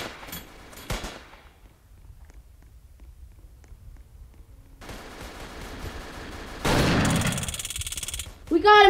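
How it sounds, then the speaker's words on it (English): Gunfire in a Roblox shootout, with sharp shots early, then a dense burst of rapid fire and loud noise near the end under a quieter bed. "Oh, shooting. Officers, take cover."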